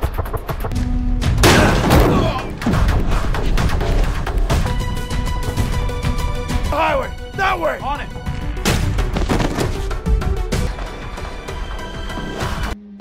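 Gunfire in an action film scene set in a prison, with special forces battling Ukrainian mafia: heavy booming shots and thuds mixed with score and crashes, while voices speak briefly over the action.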